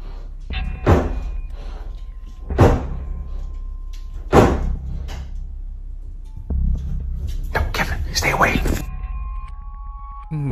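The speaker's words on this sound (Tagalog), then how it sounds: "humahampas yung pinto" A door bangs repeatedly at night, several loud, close slams spaced a couple of seconds apart, with a faint electronic tone in the background.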